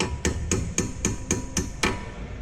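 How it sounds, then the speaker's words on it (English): Sharp metallic taps of a hammer drive out the brake caliper pins on a 2015-2020 Ford GT350, seven close, evenly spaced strikes with no talking. "you take a hammer"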